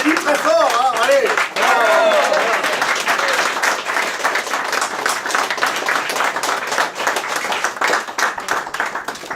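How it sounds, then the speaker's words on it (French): An audience at a Paris event breaks into loud, sustained applause, thick overlapping clapping that carries on throughout, with voices or a bit of music audible at the very start. "J'ai dit très fort, hein, allez."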